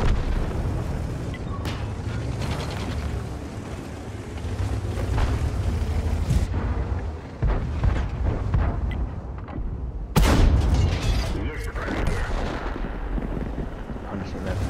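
Tank cannon fire in World of Tanks, booming shots over a dense rumbling battle backdrop, with one especially loud, sudden blast near the middle amid continuous engine and combat noise.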